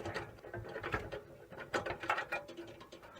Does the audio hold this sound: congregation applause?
no